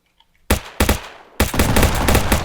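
Gunfire in a shooter video game played within Streamer Life Simulator: loud, close bursts of rapid shots, one short burst, a second, then sustained automatic fire after a brief quiet gap.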